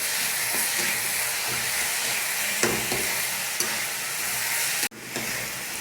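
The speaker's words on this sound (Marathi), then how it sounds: "एक चमचा अद्रक लसूणची पेस्ट आपल्याला त्याच्यात टाकायची आहे. त्याला पण मिक्स करून घेऊ." Dal mixture fries loudly over high heat while ginger garlic paste is stirred in, a dense close sizzle broken by occasional spoon scrapes and one abrupt knock.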